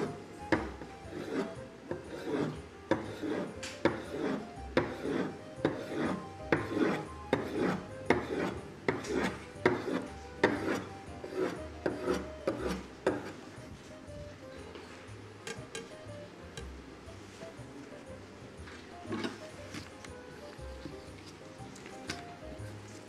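A knife chops dough into small pieces on a table, with repeated sharp taps and scraping cuts at an irregular rhythm, close and fairly quiet, easing into lighter scrapes toward the end.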